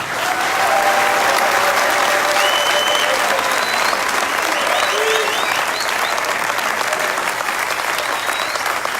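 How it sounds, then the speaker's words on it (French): Conference audience in Kisangani applauding steadily and loudly, a thick continuous wash of clapping with scattered whistles and shouts rising above it across the whole stretch. "je demande à vous tous ici d'applaudir tous les Congolais du monde entier"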